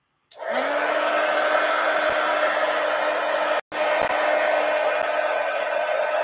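A hair dryer blows on a watercolor painting in an ink journal, a loud steady whir that starts abruptly, cuts out briefly for an instant midway and then resumes, with no one talking.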